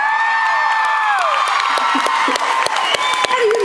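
An audience at a live comedy banter show applauds and cheers loudly, with whoops and shouts over dense clapping that runs steadily for several seconds before easing slightly.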